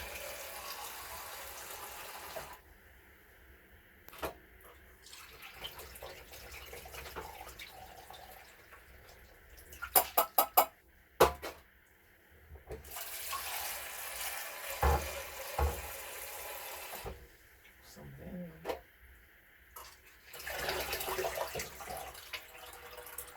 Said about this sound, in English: Rinsing this, whatever this dust is off the lentils.